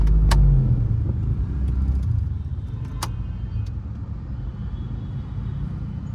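A Suzuki Alto's engine runs in stop-and-go city traffic, a steady low rumble heard from inside the car, with a few faint clicks and knocks over the continuous drone.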